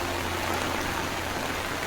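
Rain falls heavily on a forested hillside, a steady even hiss of moderate loudness that holds throughout with no other sounds.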